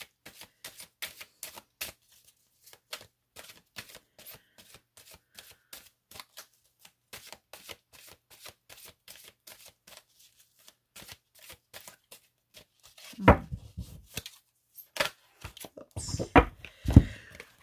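Tarot cards shuffled and drawn from a deck, a long run of quick, crisp riffling clicks, close and fairly quiet, ending with a few louder slaps and flicks as cards come out.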